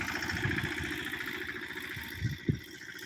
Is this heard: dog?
no